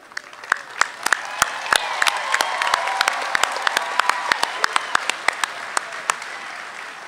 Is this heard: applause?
yes